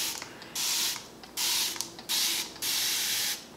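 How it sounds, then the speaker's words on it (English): Several bursts of water from a pump spray bottle dampening a wig's hair, each a short hissing squirt separated by brief pauses, close by and fairly loud. "I like to use a little spray bottle with some water to douse the hair."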